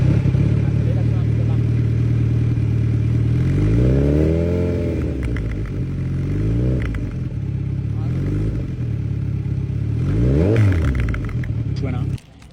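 A Kawasaki Z900 with an Akrapovic exhaust and its original dB killer, revving in a few rising and falling blips over a loud steady idle, close up.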